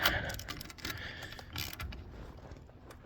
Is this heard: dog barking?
no